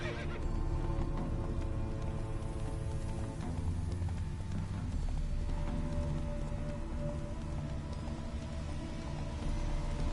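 A horse in The Witcher 3: Wild Hunt video game whinnies and snorts over a steady patter like rain, with hooves clip-clopping in a continuous outdoor soundscape.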